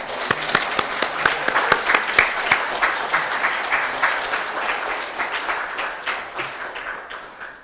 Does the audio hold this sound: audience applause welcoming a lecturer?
yes